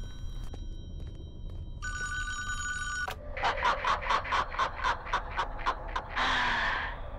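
An old-style telephone ringing in the horror game Friday the 13th: The Game: first a steady electronic tone, then a rapid run of about a dozen sharp bell rings, ending on a longer burst.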